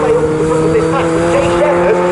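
Fun Cup race cars at Snetterton drone past the start-finish line with steady engine tones that rise and fall, heard under continuous excited commentary.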